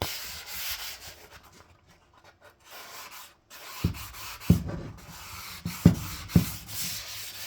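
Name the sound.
sanding and scuffing a wood finish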